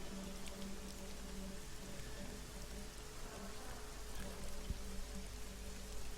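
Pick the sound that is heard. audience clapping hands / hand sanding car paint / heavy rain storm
heavy rain storm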